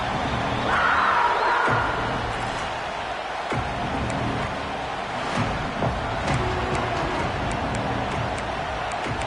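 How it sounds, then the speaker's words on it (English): A large stadium crowd at a Penn State football game roars continuously, a dense wall of cheering and noise that stays loud and steady throughout. "Listen to this crowd just shaking the girders of this place trying to help their defense."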